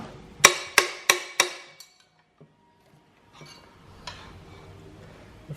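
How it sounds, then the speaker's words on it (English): Pry bars working a car flywheel off a Mazda RX7 engine: four sharp metallic clanks in quick even succession, then quieter scrapes and a few faint knocks, close by with no talking. "Just gotta pry this flywheel off now."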